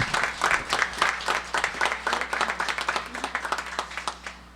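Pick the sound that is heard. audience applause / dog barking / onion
audience applause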